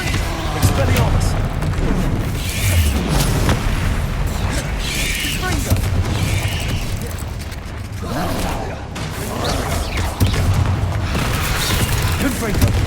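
Rapid, repeated Confringo and Expelliarmus spell blasts in the Hogwarts Legacy video game, a dense, loud barrage of booming bursts and mechanical crackles that continues almost without pause, layered over a busy low rumble.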